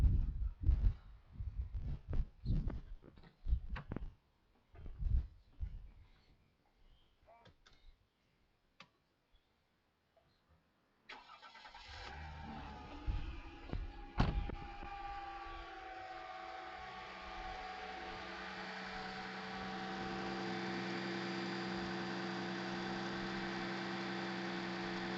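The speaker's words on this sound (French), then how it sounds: "Donc premier démarrage." A Mercedes C320 with the M112 engine starting for the first time after a spark plug change: faint clicks and handling noises, then the engine cranks, catches and settles into a steady, close idle.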